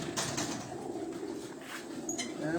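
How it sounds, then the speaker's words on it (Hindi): Flying pigeons coo inside a rooftop loft, soft low murmuring calls heard close with a few sharper sounds and a constant background hum. "ये सारे उनके परवाजी कबूतर हैं अंदर"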